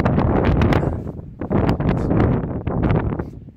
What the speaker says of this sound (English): As you can hear, that wind's quite bad.